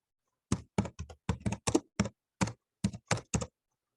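About a dozen crisp keystrokes on a computer keyboard, tapped in uneven bursts while entering spreadsheet data, close and fairly quiet with silent gaps between them.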